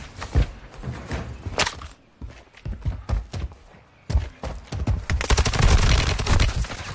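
Snowball gun firing in the Warzone battle royale game, a series of sharp bursts and crackling impacts, loud and continuous toward the end.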